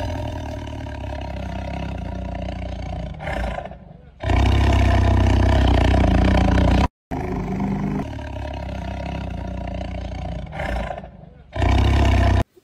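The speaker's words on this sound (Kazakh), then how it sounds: "Бұл жолбарыс. Жолбарыс ырылдайды." A tiger growls and roars in long, throaty, rumbling stretches, loud and near, broken by a few abrupt gaps.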